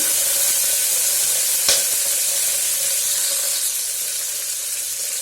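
Green chillies and onion hitting hot oil for an Andhra-style brinjal curry produce a loud, dense, unbroken sizzle with a brief crackle near the middle, close and steady throughout.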